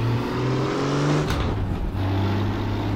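A 1000hp race car engine roars loud and close under acceleration at a car rally, with steady revving, a brief gear-change dip and then a continued pull.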